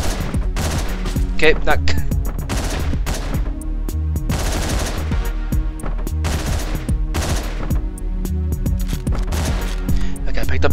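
Rapid gunfire in the Hotline Miami video game, dense bursts of punchy shots repeating across the whole stretch over pulsing background music, with someone briefly talking.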